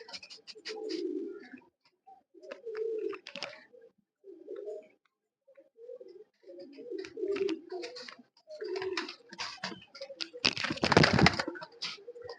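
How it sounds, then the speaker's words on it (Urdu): Champion racing pigeons at a pigeon show in Punjab coo in soft repeated bursts, close by, with a sharp crackling burst near the end and no one talking. "اس وقت آپ کو ان کبوتروں کا شو کروا رہے ہیں"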